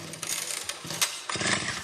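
A voice imitates a chainsaw starting with rough, sputtering buzzes in short uneven bursts, close and moderately loud.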